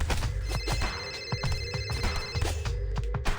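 A mobile phone rings for an incoming voice call in the video game Teenage Mutant Ninja Turtles: Mutants Unleashed, a steady electronic ringtone with repeating tonal pulses over background game sounds and footsteps.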